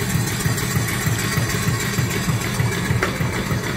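An antique steam engine and boiler combination with a large 22-inch firebox runs steadily, its exhaust going up the stack in a rapid, regular low chuffing rhythm under a continuous broadband hiss.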